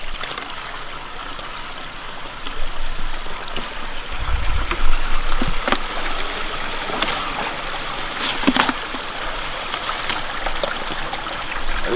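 Water from a small waterfall flows beneath the ice of a frozen backyard pond in a continuous trickling stream, with a few sharper splashes and knocks standing out near the microphone.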